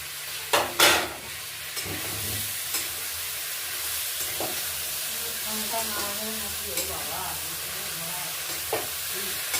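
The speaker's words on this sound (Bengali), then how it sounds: "এটা এবার কষে নিচ্ছি একটু।" Lobster curry spice paste of white mustard and green chilli paste being sautéed and stirred in a pan, a steady soft sizzle with scraping stirs and a couple of louder clatters near the start.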